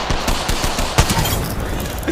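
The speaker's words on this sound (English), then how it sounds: "Just unloading the pistol at high speed down the hill" A pistol fires in rapid succession in the video game Apex Legends, a fast string of sharp close shots, one louder crack standing out near the middle, over busy game noise.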